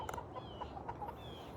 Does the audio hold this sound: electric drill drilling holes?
no